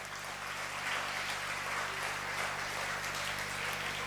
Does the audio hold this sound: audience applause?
yes